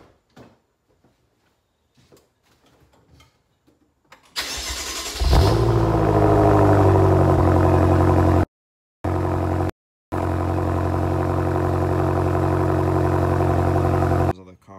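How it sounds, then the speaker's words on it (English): A BMW M5 F10 engine cold-starts with a loud burst that settles into a steady, high idle. It rumbles on for several seconds with two brief dropouts, and faint handling noises come before the start. "Here comes the cold start."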